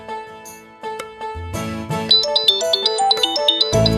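A bright, melodic phone ringtone plays loudly, its chiming notes building in rhythm and repeating without any voices.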